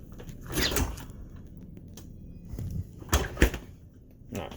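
A door on a 2011 Newell Mini-Tour motorhome swings and thuds shut. Several soft knocks and a latch click sound close by in a quiet interior, with no talking.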